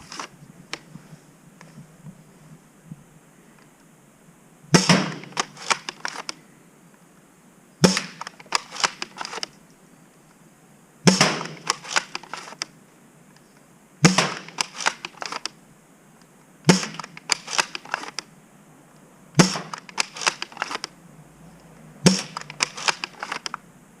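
Foam darts fired one after another from a Worker Prophecy blaster with a rifled barrel, each shot a sharp snapping burst followed by brief rattling clatter, about seven shots spaced evenly a few seconds apart, close and alone.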